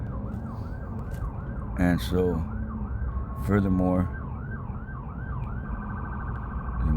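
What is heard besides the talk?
emergency vehicle sirens outside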